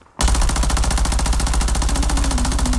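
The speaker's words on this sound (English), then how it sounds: "Oh no, I get shot in the back." Rapid automatic gunfire in Call of Duty Warzone, a loud, steady stream of shots in quick even rhythm that starts abruptly and keeps going without a break.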